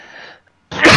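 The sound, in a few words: sneeze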